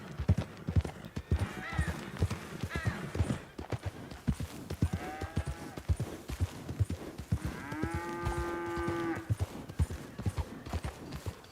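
A horse on a ranch in the video game Red Dead Redemption 2 clops its hooves in an uneven walking rhythm and lets out several whinnies and snorts, close and clear.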